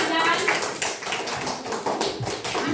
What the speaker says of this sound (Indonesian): Mari kita beri tepuk tangan untuk Bimo